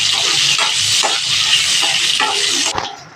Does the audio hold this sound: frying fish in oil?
yes